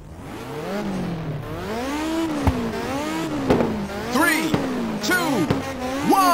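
Race cars in the PSP game Ridge Racer 2 rev and accelerate off the start line, several engines whining and sweeping up and down in pitch continuously, with tire squeals and sharp clicks cutting through the loud, steady racing noise.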